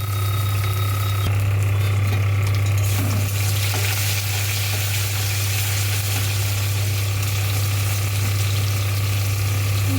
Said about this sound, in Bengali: তেলটা দেওয়ার পরে এরপরে দেব তেজপাতা, শুকনো লঙ্কা, জিরে, আদা সবার সাথে দিয়ে একটু ভেজে নিতে হবে।